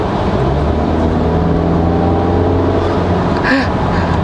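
An Audi Q3 Sportback 35 TDI diesel engine being switched into dynamic mode gives a steady, loud in-cabin drone with engine harmonics that rise slightly. A brief tonal blip comes near the end.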